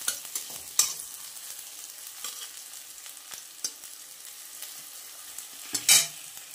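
Potato slices fry in a pan with a soft continuous sizzle, broken by occasional stirring scrapes and a louder hiss near the end.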